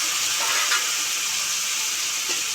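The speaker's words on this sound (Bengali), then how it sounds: "মশলা যেই থালায় রেখেছিলাম সেই প্লেটটা ধুয়ে জল দিয়ে দিচ্ছি।" Water hits a hot pan of frying spices with turmeric and bursts into a loud, steady hiss of sizzling, close and continuous throughout.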